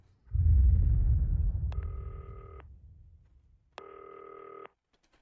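Telephone ringing in the video game Not For Broadcast: two loud, electronic bursts of ring tone, each lasting about a second, after a fading low rumble, with no talk.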